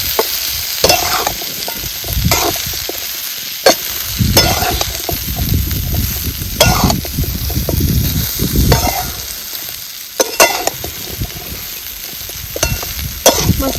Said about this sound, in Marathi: परत ही एक करून आपल्याला हलवून घ्यायचे सारी बाजूने